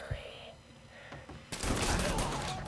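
Gunfire in the video game Mafia 3, a few scattered muffled shots followed by a sudden burst of dense, rapid fusillade filling the last second, with a player's voice speaking over it.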